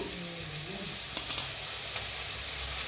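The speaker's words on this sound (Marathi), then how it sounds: "थोडंसं तेल घेतलं आहे तेल घालून भाजून घेऊया" Spices roasting in a little oil in a pan give a steady, close sizzle with light stirring scrapes, a few brief clinks standing out partway through.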